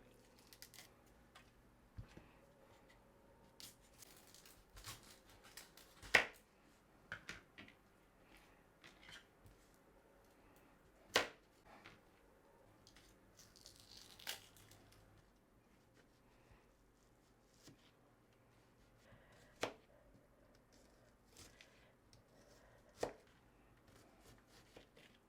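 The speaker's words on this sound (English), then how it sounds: "I'm gonna chop my onion." Knife chopping an onion for salmon cakes, giving scattered crisp chops on a cutting board with pauses between bursts, moderately close and without talk.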